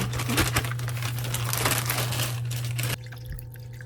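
About one litre of water pours into a pot with a steady splashing rush for about three seconds, then stops, leaving a faint low hum.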